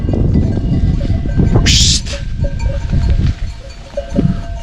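A flock of sheep and goats moves along with bells, giving scattered small clinks over a low, shuffling rumble of hooves and bodies, fairly close.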